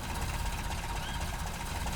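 Modded car engine in Red Dead Redemption 2 runs with a steady, rough mechanical drone, even and continuous throughout with no pauses or revving.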